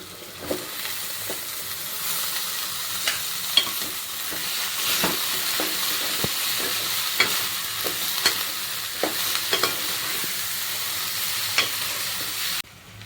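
Boiled broad beans stir-fry with turmeric and spices in a pan, a constant sizzle punctuated by regular scraping taps of a spoon, close and alone.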